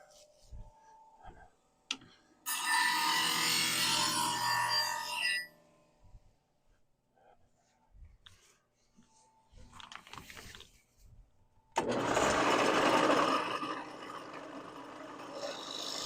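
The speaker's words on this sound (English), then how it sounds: "Let's refresh that burr since the grinder's running." Bench grinder sharpening a woodturning tool to refresh its burr: two loud bursts of harsh grinding, the first about three seconds long and the second longer, separated by a quiet stretch of faint ticks and clicks.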